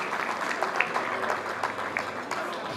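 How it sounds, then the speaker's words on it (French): An audience at a gala in Montréal applauds steadily, a sustained clapping crowd with scattered sharper claps standing out. "Qu'on applaudit."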